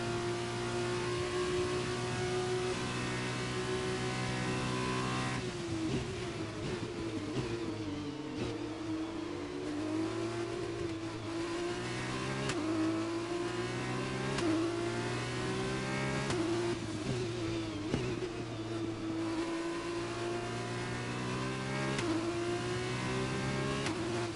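An F2 race car engine in the F1 2021 game, holding a loud, steady high-revving whine through the final lap, the pitch swooping down and back up over and over as the car brakes and accelerates.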